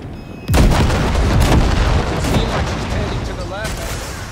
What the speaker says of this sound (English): Just keep shooting at those rust buckets